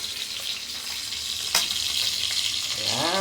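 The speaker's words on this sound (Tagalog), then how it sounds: "Pritong mackerel" Mackerel frying in hot oil gives a steady, close hiss of broadband sizzle, with a brief sharper crackle partway through and a faint rising tone near the end.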